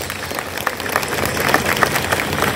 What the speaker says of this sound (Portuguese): vamos expressar esta alegria pelo nosso encontro com uma calorosa salva de palmas